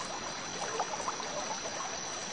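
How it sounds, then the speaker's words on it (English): Rushing river water, a steady faint hiss of flowing water with a soft burbling texture throughout and no voices. "The rushing water took the boat into the middle of the river."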